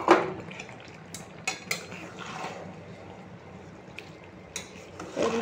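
A spoon clanks and scrapes around a pan as drumstick pickle is stirred with spices. Sharp metallic knocks break into a soft background of frying and rustling.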